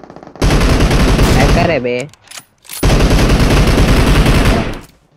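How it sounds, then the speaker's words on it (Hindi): Sustained bursts of rapid machine gun fire in a video game, loud and close, broken by a short pause where someone speaks before the firing resumes. "मशीन गन अच्छी चलाया"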